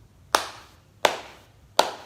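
Hands clapping three times, evenly spaced sharp claps, close and distinct against a quiet background.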